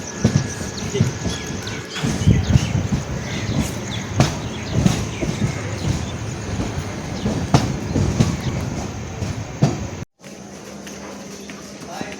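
The Okha Express pulls into Ratnagiri station on the Konkan Railway, heard from on board: a steady rumble with rhythmic clickety-clack of wheels over rail joints, close and continuous, ending in a sudden cut to quieter ambience.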